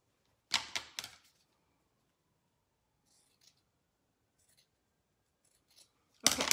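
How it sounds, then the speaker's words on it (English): Scissors make a quick cluster of close snips through fabric being cut for a farmhouse tea towel, then faint handling clicks, and a fresh run of cuts begins at the end. "I need to cut this piece off here."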